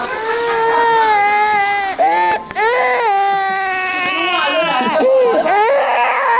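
A three-month-old baby with a fever cries loudly and continuously at a health centre, close by, in sustained wailing bursts broken by a brief catch for breath.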